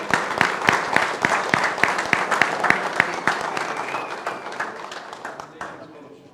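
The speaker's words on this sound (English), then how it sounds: "Let's give them a round of applause." Audience applause at a city commission meeting honoring a state championship team, steady dense clapping with sharp individual claps standing out, loud and sustained, tapering off near the end.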